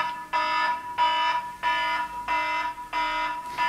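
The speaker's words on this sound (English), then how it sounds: "Ah, that's the not wanting to get bogged down in the science alarm." Electronic alarm beeping in a steady repeating pattern, five or six loud buzzing tones with short gaps, sounding alone and fairly close, set off as a comic gag during a science discussion.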